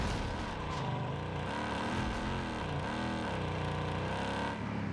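Continuous engine drone of a vehicle driving and turning in Call of Duty Warzone Pacific, a steady, even hum with slight pitch changes through the turn, no talking.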